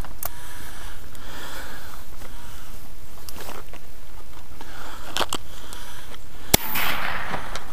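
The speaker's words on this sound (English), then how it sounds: "She don't even know she's being shot at." A shotgun fires at a wild turkey outdoors, and one sharp, loud blast lands late in the clip. Quieter pops and rustling come before it.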